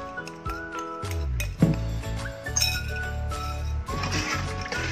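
Agar jelly powder and sugar stirred in a small amount of water, a spoon clinking repeatedly against the glass or metal bowl in a steady, close, ringing rhythm.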